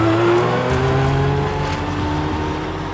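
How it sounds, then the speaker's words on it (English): A Ferrari 575M on hot laps, its engine a loud, steady high-revving drone with strong tonal harmonics, shifting pitch slightly as the car accelerates, continuous throughout with no talking. "to take some hot laps with Dario in a Ferrari 575M"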